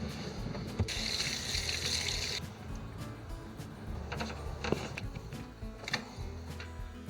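Cured wild salmon is rinsed under a running kitchen tap, a steady close splashing and gushing of water with small knocks and clatter from handling the fish.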